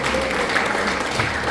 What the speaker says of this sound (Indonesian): Tepuk tangan dulu Pak Dimas.